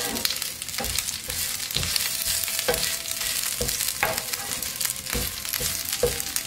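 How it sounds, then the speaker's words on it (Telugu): Curry leaves dry-roast in a pan while being turned, giving a crisp, crackling rustle with regular, fairly close spatula scrapes and no talk. "కరివేపాకు పచ్చిదనం అంతా పోయి డ్రైగా అయ్యే వరకు వేయించుకోండి."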